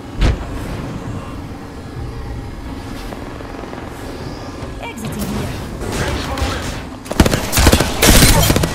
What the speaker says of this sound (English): Bots are shooting at me.